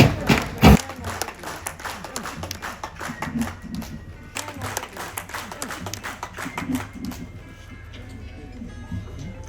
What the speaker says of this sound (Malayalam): നല്ലൊരു കൈയടിയോടെ സ്വീകരിക്കാം